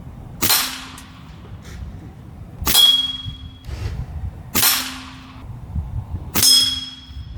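Four sharp shots from an Air Venturi Alpha PCP air rifle, each a crisp crack with a brief metallic ring, spaced about two seconds apart with quiet room noise between.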